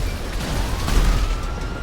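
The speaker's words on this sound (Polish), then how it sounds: "Cała zastawa wybuchła." A deep, rumbling vehicle explosion in a video game convoy ambush roars up close, its low boom swelling and rolling on with crackling debris for a couple of seconds.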